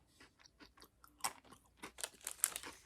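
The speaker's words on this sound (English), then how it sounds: "Those are fun to eat because they're so small and just crunch away." Pocky chocolate-coated biscuit sticks are crunched near the mic, with a run of crisp, uneven bites and chews that grow louder toward the end and no talk over them.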